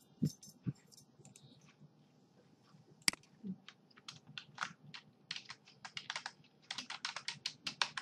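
Someone typing code on a computer keyboard: a few isolated key clicks and one sharp clack, then a quicker run of rapid, irregular keystrokes, close and clear with no speech.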